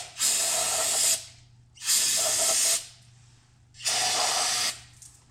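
Brake cleaner sprays from an aerosol can to flush out a return line on a 1967 Ford Mustang, three separate bursts of close, loud hissing spray, each lasting about a second with short pauses between.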